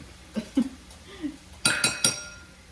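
Clinks of a utensil against a dish while ketchup is stirred into a cheeseburger casserole mixture, a few sharp metallic taps in quick succession, fairly close and moderately loud.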